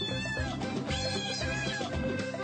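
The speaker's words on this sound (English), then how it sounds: "that's when they started meowing" A cat meows repeatedly from inside a vent pipe, its cries hollow and echoing, loud and close, with a steady strained wailing rhythm and no talk over it.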